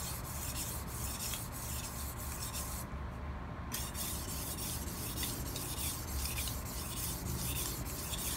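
A knife blade rubs back and forth across a sharpening stone in a steady, close rasping rhythm of repeated strokes, with no voices over it.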